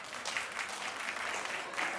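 A talk show studio audience claps in a fairly soft, continuous patter that holds at an even level from start to finish.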